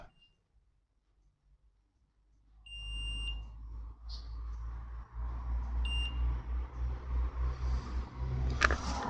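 A car air conditioning pressure switch gives a few short, sharp high beeps during a system test, over a low idling engine hum that starts after a quiet opening.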